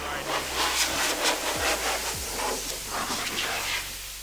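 An air blower drying a car after a wash gives off a continuous close rushing hiss with pulsing gusts, and a faint low hum runs beneath it.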